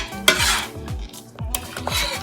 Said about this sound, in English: So I'm just going to put these onions in the jar.